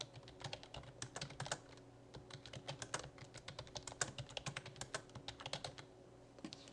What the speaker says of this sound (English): And then you type in your message.